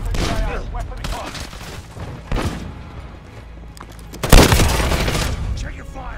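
Gunfire in Modern Warfare multiplayer team deathmatch, with scattered shots and bursts at a moderate distance and one loud close crack toward the end, heard among other game sounds and a voice.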